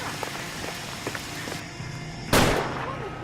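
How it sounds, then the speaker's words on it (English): A single loud explosion in the video game LA Noire comes after a stretch of rain-like crackle and scattered pops. It ends in a sudden broadband blast that rings out and decays slowly. "Was that an explosion?"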